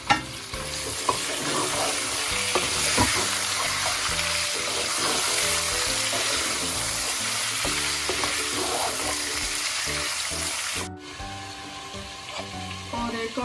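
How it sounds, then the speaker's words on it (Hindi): Meat and fried onions sizzle in cooking oil in a pot for haleem, a dense steady hiss with occasional stirring clatter, briefly dropping near the end before resuming. "अब हम इसमें गोश्त डालकर इसको अच्छी तरह भून लेंगे।"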